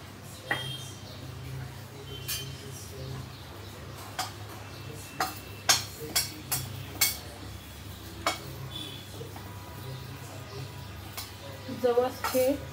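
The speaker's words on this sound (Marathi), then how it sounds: "तर आता आपण जवस भाजायला घेऊया।" Flaxseeds dry-roasting in a pan make scattered sharp clinks and ticks against a quiet background, irregular and close by, with a voice talking at times.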